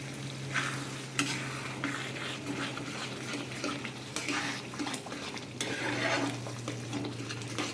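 Paneer simmering with half a cup of water in a pan, a soft continuous bubbling sizzle with periodic scraping stirs and light utensil clinks against the pan, no talking.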